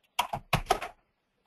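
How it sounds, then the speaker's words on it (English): Close bursts of computer keyboard typing, two short clusters of quick clicking keystrokes with a pause between, then silence, with no speech. "That way we don't have to hear your typing."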